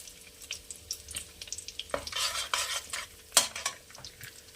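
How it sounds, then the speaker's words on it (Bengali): Whole cumin seeds and a bay leaf dropped into hot oil for tempering, giving soft crackling sizzle with scattered clinks and scrapes of a spoon against the pan, fairly quiet and close. "এবার এই তেলেই আমি ফোড়ন দিয়ে দেবো একটু জিরে, আস্ত জিরে, একটা তেজপাতা"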